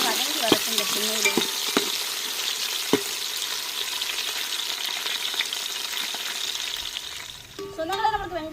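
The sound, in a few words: onions and green chillies sautéing in a pan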